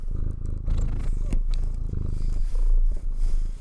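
A cat purrs in a steady, close, rumbling drone that carries on throughout without a break, sounding loud and near with no talk over it.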